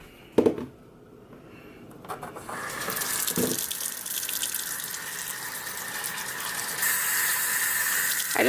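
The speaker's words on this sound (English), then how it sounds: "And then we're going to add the water." Tap water runs steadily into a container of oats after a couple of clinks, the gushing flow rising slightly in pitch as it fills.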